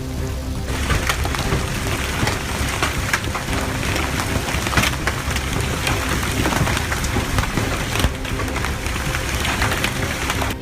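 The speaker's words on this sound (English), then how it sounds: "This type of hail is not very common in the Piedmont, NC." Hailstones fall hard in a severe thunderstorm in the North Carolina Piedmont, a dense, loud, continuous clatter and hiss with sharp impacts scattered throughout.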